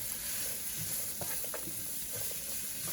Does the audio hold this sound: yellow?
yes